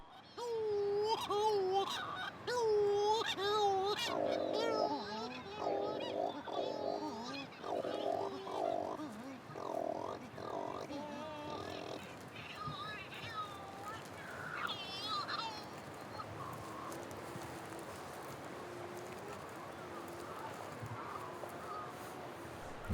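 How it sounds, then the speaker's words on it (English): Cory's shearwaters calling at a rocky seabird colony in Corsica, with loud wailing, infant-like cries that rise and fall in repeated bursts, several birds close together, fading into quieter calls. "These Cory's shearwaters that wail like infants nest at night under the jumble of rocks"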